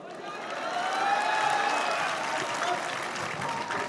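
A large crowd at an outdoor poetry recital applauds, a dense sustained roar of clapping with a few cheers, loud and continuous throughout, swelling slightly in the middle.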